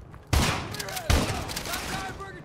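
Burst of gunfire in Call of Duty Modern Warfare 2, two loud close volleys with a rattling tail, with faint game voices underneath.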